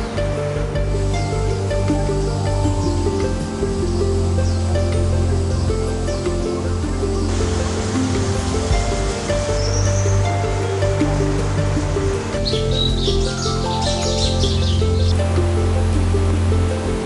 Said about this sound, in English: the trickling streams merge into a fast-flowing river